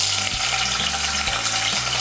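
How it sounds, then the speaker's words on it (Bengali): Cubes of paneer frying in hot white oil in a kadai, a steady bright sizzle with soft periodic stirring scrapes, close and loud with no talking. "তেলটা আমার গরম হয়ে গিয়েছে, এর মধ্যে আমি কেটে রাখা পনিরগুলো দিয়ে দিচ্ছি।"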